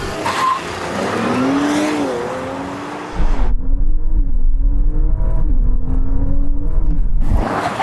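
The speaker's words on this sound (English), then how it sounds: "I'm going to do 0 to 60 then into the brake" An Audi Q5 revs hard and pulls away with rising engine pitch and gear changes, then brakes to a stop with a low rumble and tire noise, loud and close with no talking.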